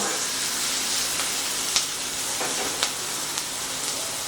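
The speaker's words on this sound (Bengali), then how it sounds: "পেঁয়াজ আর টমেটো সব কিছুকে কিন্তু খুব ভালো করে একটু ভেজে নিয়েছি" Onion and tomato fry in a pan for egg chilli, a steady close sizzle with a few soft scrapes and taps of stirring scattered through, no voices over it.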